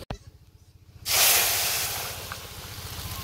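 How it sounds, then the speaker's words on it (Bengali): Garlic, black cumin and cumin dropped into hot oil for a village-style tempering burst into a loud, sudden sizzle after a quiet second, then settle into a steady, close hiss that eases slightly. "এখন খালি বাগার দিব। নানি এ জায়গায় রসুন, কালো জিরে আর এমনি জিরে তেলের মধ্যে বাঁচতে একটু লাল লাল হলে বাগার দিয়ে দিব।"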